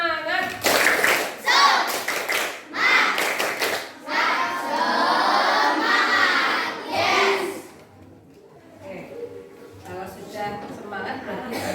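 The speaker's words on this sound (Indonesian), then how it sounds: "Masih pagi, tepuk semangat." Schoolchildren perform a patterned spirit clap in a classroom, with bursts of rhythmic clapping separated by short pauses. A teacher's voice follows near the end.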